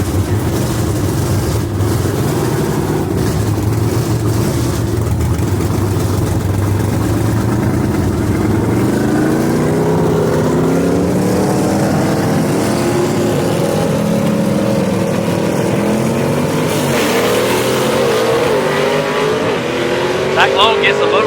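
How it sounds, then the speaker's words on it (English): Gasser drag race cars charge down a dragway at a Southeast Gassers event in Knoxville, their engines roaring loud and continuous with rising pitch, while a commentator talks over the noise. "Brian Dalton having to reel that car in as he goes down the racetrack"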